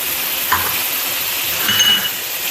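Chicken frying in a karahi with turmeric and black pepper, a loud continuous sizzle with spoon scrapes and stirring noises throughout, close and steady.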